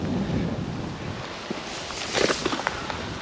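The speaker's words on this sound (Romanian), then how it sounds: "Măcar să-mi bată vântul din față dacă tot nu se oprește." Wind blows and buffets at a lake spillway in a steady rushing roar, with a few soft knocks and thumps near the end.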